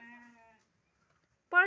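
A newborn goat kid gives two short, high, nasal bleats, close and clear, with a brief silent gap between them.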